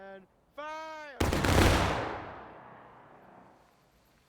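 Musket volley in War of Rights: a single massive, near simultaneous burst of rifle fire that crashes in loudly, then rolls away into a long fading echo, preceded by a shouted command.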